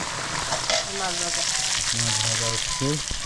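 Kochur loti (taro stolon) curry cooking in a pan in a village kitchen, a steady broadband sizzle with short tonal voice-like sounds faintly over it.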